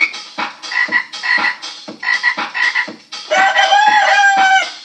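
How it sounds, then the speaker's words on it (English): Chickens hollering in the cold during a winter storm, a loud, close run of repeated croaky squawks and clucks in uneven bursts, ending in a longer, drawn-out cry. "Chicken is hollering."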